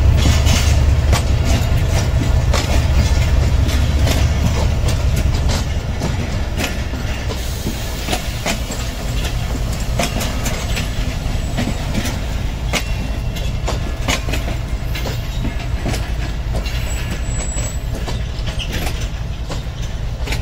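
Awam Express passenger train running on rails, a continuous loud rumble with rapid rhythmic clickety-clack of wheels over rail joints, heard from inside a carriage, with a faint squeal near the end.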